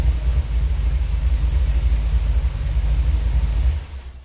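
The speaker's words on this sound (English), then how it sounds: "I know you all were enjoying hearing that engine" A car engine with a Holley 4150 carburetor idles with a steady low rumble for several seconds, then abruptly cuts off near the end.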